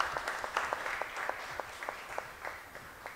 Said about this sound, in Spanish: vamos a dar un aplauso a Madeleine